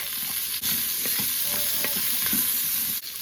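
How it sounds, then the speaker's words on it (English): Marinade mixture being stirred and sautéed in an Instant Pot for a roast beef dish, a steady close sizzle with soft scraping stir strokes repeating throughout and no talking. "I'm just going to stir this. We will saute this for a little bit."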